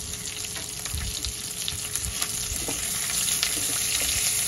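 Curry leaves frying in hot oil with whole green chillies for a coconut-milk pulao, a dense close crackling sizzle with occasional stirring scrapes, growing slightly louder toward the end.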